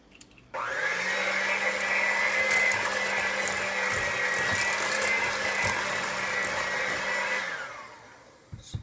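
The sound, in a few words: mixer mixing egg into butter and sugar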